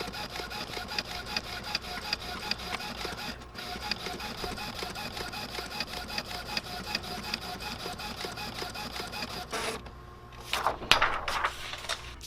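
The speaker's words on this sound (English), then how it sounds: "we're going to send this over to the printer and print this right now." A sublimation printer printing mug designs, a steady rapid mechanical clatter and whir of the print head shuttling back and forth, close and continuous, followed by a brief pause and some clunking handling noises at the end.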